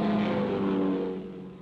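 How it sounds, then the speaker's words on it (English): A V8 7-litre, 450-horsepower British touring car engine roars loudly and steadily close by, a dense sustained growl that eases slightly toward the end. "A V8, 450 horsepower, 7-litre engine."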